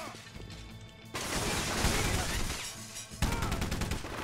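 Rapid bursts of gunfire from the video game Rogue Warrior, loud and close, with a sustained volley and a second sharp burst near the end.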